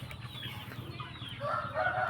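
A fighting rooster of about 2.6 kg, still lean, gives low, repeated clucks close by over steady barnyard background noise, with a few brighter calls toward the end.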